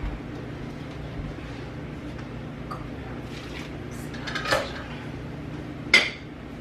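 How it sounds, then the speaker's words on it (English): A spoon scoops cooked carrots out of a pan of roast-dinner gravy, giving two short, clear metallic clinks against a steady low kitchen hum. "Now I need a spoon to get the carrots out."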